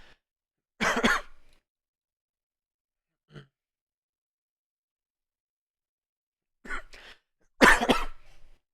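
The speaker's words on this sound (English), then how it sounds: "Apologize for the coughing, guys." A person coughs in a few short, separate bursts with near silence between: one fit early, a faint small cough midway, then two more fits near the end, close and fairly loud.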